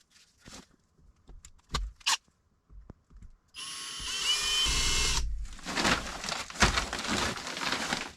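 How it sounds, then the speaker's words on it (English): A power drill bores a hole outdoors, whirring loudly and steadily for a couple of seconds, then giving way to rough, gritty noise, with scattered knocks and handling sounds beforehand. "let's drill a hole right there"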